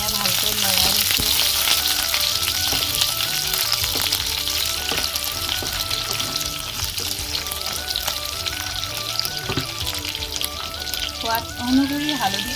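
Boiled pointed gourd and potatoes frying in a pan with onion, a little sugar and dried chillies, a loud steady sizzle and crackle with occasional stirring scrapes, close and continuous.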